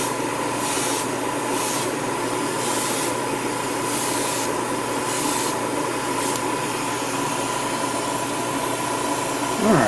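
An airbrush hisses steadily at close range while spraying paint on a 1/100 Full Armor Gundam Thunderbolt model kit, in repeated bursts of rushing air that end with a short clatter.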